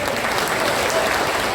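Steady applause from an audience at a political rally fills the space, dense and close, with no break and no voices standing out.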